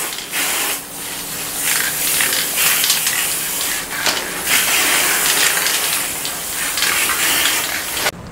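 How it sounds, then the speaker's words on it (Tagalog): A spray paint can hisses steadily while coating an aircon cover in thin layers, a loud, close spray with several brief pauses and uneven bursts, no talking over it. "Tatlong maninipis na coats yung ginawa kong spray paint."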